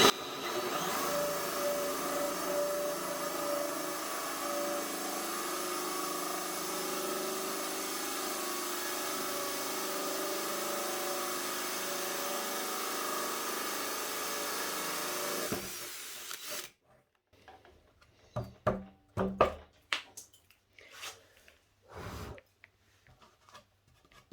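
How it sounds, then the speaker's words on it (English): A steady, loud electric drill whirs continuously for about fifteen seconds drilling through a shelf, then cuts off, leaving scattered clicks and knocks. "now I can go back through that exact same hole and just drill all the way through"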